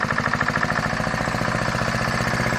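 A Farymann A40 diesel engine running on a test bench at its first start-up, a close, loud, steady rhythmic chugging with even firing pulses throughout.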